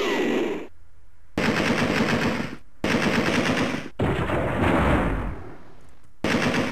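A Thompson submachine gun fires in Alone in the Dark 2, loud bursts of rapid automatic fire broken by short silent gaps, four or five strings in a row, with no talking.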